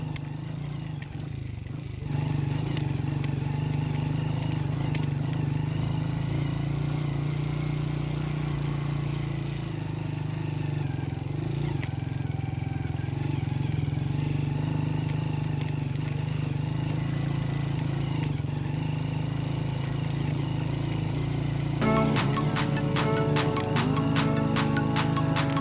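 Motorcycle engine running steadily on a mountain ride toward Neel Fairy lake in Azad Kashmir, a continuous low drone at moderate level with rattly clatter and a brief dip near the start.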